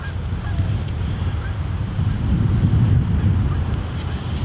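A flock of geese honks outdoors in cold weather, with scattered calls rising over steady wind rumble and low background noise that swells toward the end.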